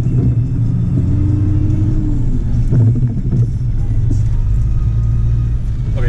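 A car drives in second gear on a road in Iceland, its engine a loud steady low rumble close by, with muffled voices talking over it.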